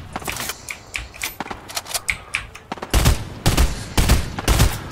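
Gunfire from a weapon called the FAMAS in the Fortnite video game: quick, sharp bursts of shots repeating in a steady rhythm, with louder, heavier reports in the second half.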